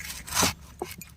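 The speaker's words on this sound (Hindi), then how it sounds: "इसको अब हम फटाफट इस तरह से काट लेते हैं" A knife cuts through a raw, unripe green papaya in one short, close, rasping stroke, followed by a couple of faint scrapes.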